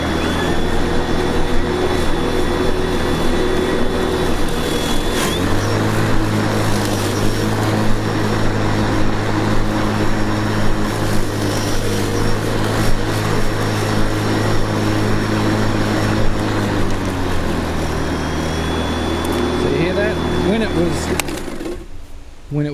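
A Makita 40V cordless lawn mower cuts grass with a steady, loud electric whine and low hum that holds throughout, its pitch shifting as the load changes, then cuts off near the end; speech is tagged but no words come through.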